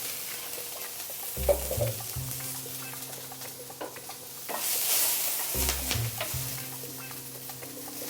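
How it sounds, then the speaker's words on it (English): Red onion sautéing in olive oil in a hot pan, a soft steady sizzle broken by two bursts of spoon stirring and scraping, heard close with no talking. "Let that saute a bit."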